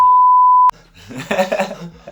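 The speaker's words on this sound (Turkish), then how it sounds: "Onu bip, bipledi abi." A loud, steady censor bleep tone holds for about two thirds of a second over a swear word during a Turkish laughing challenge, then cuts abruptly into talk and laughter.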